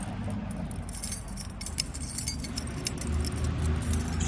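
A ring of keys jangling and clinking close by while the trunk key of a 1952 Buick Special barn find is picked out, over a low rumbling background, with no talking.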